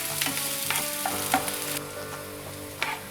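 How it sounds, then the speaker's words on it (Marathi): A small finely chopped onion sautés in hot oil for egg masala, crackling sizzle with a few sharp stirring clinks and scrapes, fading slightly toward the end. "आता ह्याच्यात आपण एक छोटा कांदा बारीक करून घालायचा आहे हा कांदा अगदी थोडा परतून घ्यायचा आहे आपल्याला"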